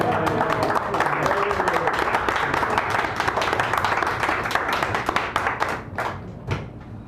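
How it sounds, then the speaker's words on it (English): An audience at a San Francisco cafe poetry reading claps, a close, dense patter of hands with individual claps standing out as it thins toward the end, with voices mixed in underneath. "Let's give him a real sacred round of applause."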